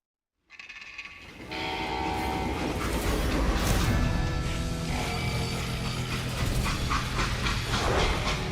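A freight train in the Western shooter Call of Juarez Gunslinger rumbles and clanks steadily after a quiet start, with a long horn blast and hissing steam over the rolling of the cars.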